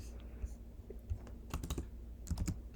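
Computer keyboard typing comes in two short bursts of quick, close clicks separated by a quiet pause, with no talking over it.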